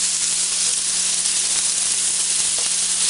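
Bacon, onion, olive oil and butter sizzle in a pan for risotto, a constant bright hiss of frying fat running steadily throughout with no voices.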